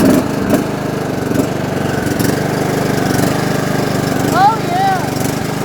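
A John Deere LA115 lawn tractor engine from 2008 runs steadily at a close, loud level, with a brief rise in revs near the end and someone talking over it.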